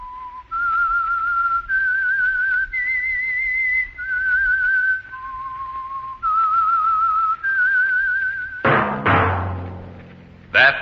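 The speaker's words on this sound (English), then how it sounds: "That whistle is your signal" A clear, sustained whistled theme melody of held notes rising and falling, from an old radio drama, followed by a sudden loud thud and rumbling crash at the end.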